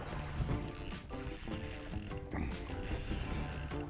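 A Power-Pole shallow-water anchor deploys from a fishing boat on the flats, giving a faint mechanical ratcheting and whirring under quiet outdoor ambience.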